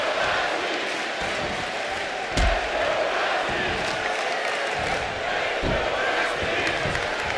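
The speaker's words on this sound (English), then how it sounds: "that everybody's cheering for Roxy here" Arena crowd cheering inside the WWE 2K25 wrestling video game during a Hell in a Cell match, a continuous roaring din with occasional louder thumps.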